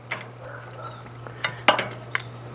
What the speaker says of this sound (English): I'm just gonna put them in this Pyrex pan.